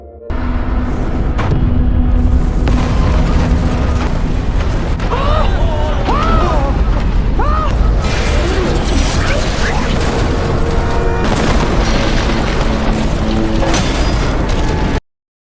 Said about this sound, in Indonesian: lagi-lagi menyebabkan ledakan, namun kali ini lebih besar dari sebelumnya